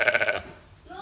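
A baby sheep at a farm gives a short, wavering bleat, close and fairly loud, fading into quiet background noise.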